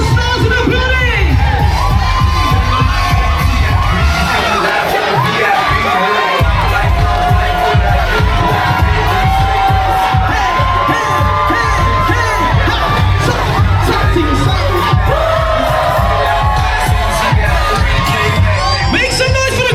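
A wedding reception crowd cheers for the grandparents: loud continuous shouting, whooping and high children's yells fill the room for about twenty seconds, with voices mixed into the din.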